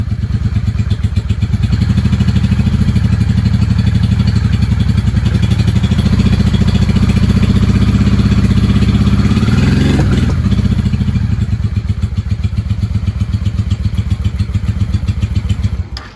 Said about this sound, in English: It's weird without a RPM gauge because I can't tell where she's idling. Although she's running.